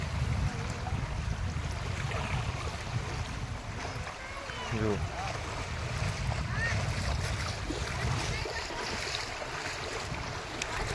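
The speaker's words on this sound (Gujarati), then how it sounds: "જો નાના નાના મોજા પણ આવે છે." Gentle small sea waves wash continuously at the shore near Nishkalank Mahadev, Koliyak, under gusty wind noise, with a voice briefly heard in the middle.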